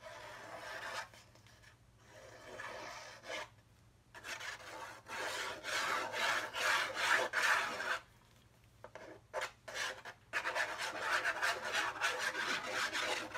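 Art glitter glue being worked around the perimeter of a paper autumn gatefold mini album, giving close, dry rasping and rubbing strokes in irregular bursts with brief pauses between passes, no voices.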